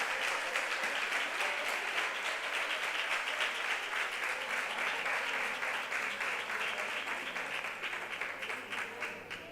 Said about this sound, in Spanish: Les voy a pedir un fuerte aplauso para todas ellas.